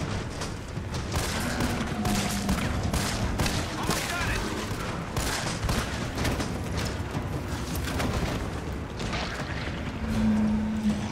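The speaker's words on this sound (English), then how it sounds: "The explosion is what really makes me laugh." Explosions and rapid gunfire fill a Resident Evil 3 Remake game scene, loud dense bursts and booms running continuously over eleven seconds, with a voice speaking now and then underneath.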